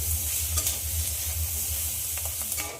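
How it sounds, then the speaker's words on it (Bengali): Onions frying with salt in a pan for pasta give a continuous close hiss and sizzle, broken by a few quick scrapes of a spoon stirring near the end, with no voices. "লবণটা দিয়ে আবারও ভালো করে ভেজে নিতে হবে"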